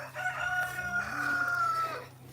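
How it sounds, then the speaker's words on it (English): Chickens on a farm cluck and a rooster crows in a long drawn-out call, moderately close, with steady low background hum and no talking. "chickens are eating this"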